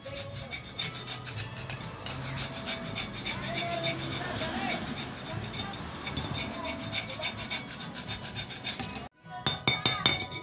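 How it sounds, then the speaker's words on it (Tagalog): Rust being scraped off an empty refrigerator compressor oil storage tank, a continuous close rasping scrape with rhythmic strokes, briefly pausing before resuming. "Kiskisin natin to para mabawasan yung kanyang kalawang."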